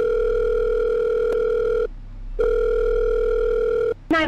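A steady telephone dial tone in a Bob's Burgers horror game, holding for about two seconds, breaking briefly, then resuming at the same level before cutting off sharply at the end.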